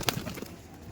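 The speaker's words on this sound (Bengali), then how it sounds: "এটা তো সব বিডার পায়রা।" Pigeons at a loft of fliers give a brief burst of coos and rustling near the start of a short stretch, with faint bird sounds fading after.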